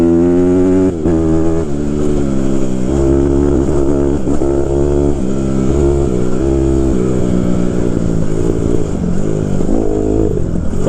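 A 2014 Honda CRF 150R dirt bike is ridden hard nearby, its loud engine revving and dropping repeatedly as the rider shifts and accelerates, with a constant buzzy roar throughout.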